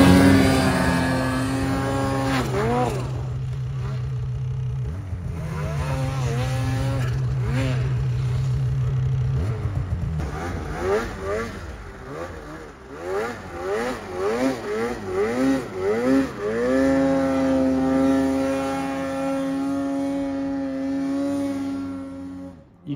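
An 850 snowmobile engine in deep mountain snow drones loud and close, then revs and wavers through repeated rising and falling throttle pulls as the rider tries to hop over, before settling back to a steady high whine.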